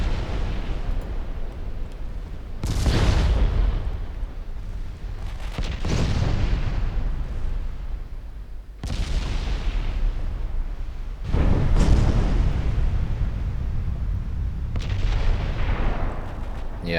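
Heavy naval gunfire from secondary guns in Ultimate Admiral Dreadnoughts: four loud, booming volleys spaced a few seconds apart, each a deep broad blast that rolls off over a steady low battle rumble.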